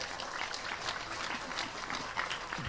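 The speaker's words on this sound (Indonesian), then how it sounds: "Tepuk tangan untuk Maung Hercules" An audience claps for Maung Hercules at a talk, a steady patter of many hands at moderate distance, continuing evenly throughout with a slight bump near the end.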